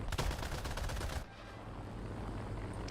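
Aircraft gunners firing machine guns in War Thunder, a rapid, loud burst of gunfire for about a second that cuts off abruptly, followed by a steady engine drone.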